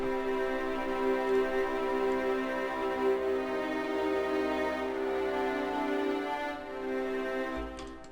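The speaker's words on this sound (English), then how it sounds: "just orchestral full strings." Sustained orchestral full strings layer from a trap beat, a dense held harmonic wash playing steadily and loud throughout with a low bass hum beneath, no voices.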